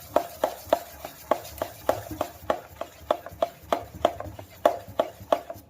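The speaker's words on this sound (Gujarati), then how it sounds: "આવી રીતે 2 મિનિટ ફેટી નાખવાનું એક જ દિશામાં." Instant dosa batter is whisked briskly in one direction in a bowl, making quick, regular tapping strokes about two per second, close and crisp, with no talking.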